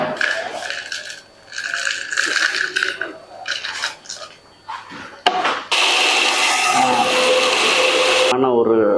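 Electric mixer grinder whirs loudly and steadily as spices are ground into a coarse powder for a fish fry masala, following a stretch of talking and clattering.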